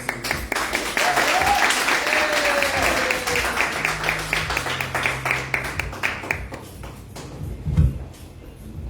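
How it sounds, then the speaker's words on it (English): Applause from an audience at a church ministry event for Serena, dense clapping filling the room for about seven seconds before tapering off, with voices mixed in. "So please clap your hands,"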